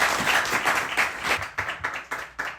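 Audience clapping and applauding at a book launch event, a dense burst of hand claps that thins into scattered individual claps toward the end, fairly close and with no talking.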